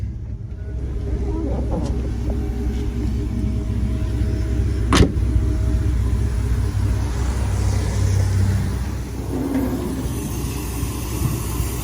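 A restored 1947 Chevrolet 3100 pickup with a 4.3 V6 idles smoothly and steadily nearby, a constant low engine hum with a brief sharp click midway.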